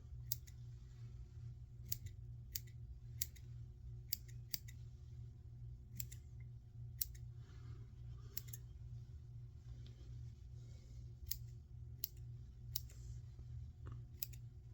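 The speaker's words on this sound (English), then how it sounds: "big scissors, just kind of trim everything off a little even." Big scissors snip repeatedly while trimming a large musky fishing fly, sharp close clicks spaced irregularly over a low steady hum, no talking.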